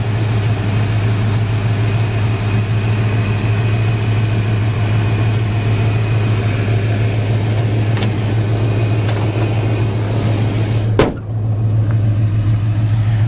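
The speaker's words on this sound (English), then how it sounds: "Engine seems to run great." A 1985 Ford Mustang 5.0 V8 engine idles with a steady, deep rumble, close and continuous, interrupted near the end by a single sharp thump.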